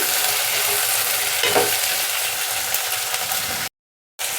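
Field beans and brinjal pieces frying in a pan, a dense, steady sizzling hiss with a low rumble beneath, cut by a brief moment of silence near the end.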